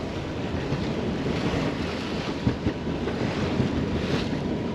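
Steady wind of about 15 knots roaring over the microphone on a sailboat beating close-hauled toward Île Fourchue, Saint-Barthélemy, with waves slapping the hull in a dense, continuous close wash.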